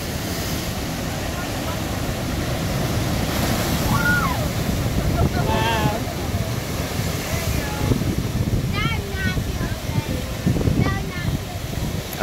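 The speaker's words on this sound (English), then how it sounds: "here on the Oregon coast at Devil's Churn. This is just amazing. Coming in high tide." Ocean waves churn and surge at high tide into the rocky inlet of Devil's Churn on the Oregon coast, a steady loud roar of surf with wind buffeting the microphone, while birds call faintly in the background.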